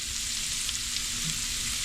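Fish fries in boiling hot oil, a steady, dense sizzle and crackle that carries on without a break, close and fairly loud with no voices.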